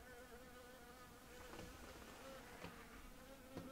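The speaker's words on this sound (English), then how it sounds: "It's just a little wasp." A small wasp buzzing indoors, a steady faint drone that carries through the whole stretch with slight rises as it moves closer, no voices.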